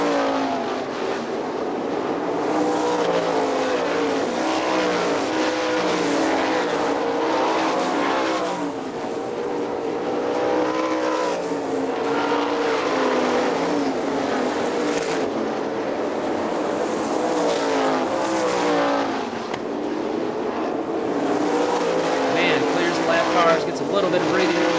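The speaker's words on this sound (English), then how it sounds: "Laps winding down as Blond is right on the back of Mann." Sprint cars with 410 engines racing on the oval at Hartford Speedway in Michigan, a steady loud roar of several engines throughout, under continuous race commentary.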